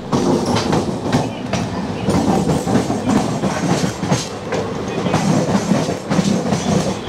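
The 13149 Kanchankanya Express rolls along the rails after leaving Sealdah, with loud, steady rumbling and rhythmic clickety-clack from the wheels heard from inside a new coach, constant and close throughout.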